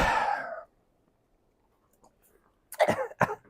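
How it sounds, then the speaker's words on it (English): A short cough at the start of a lecture, then silence, followed by two sharp coughs close to the microphone. "Cough, cough."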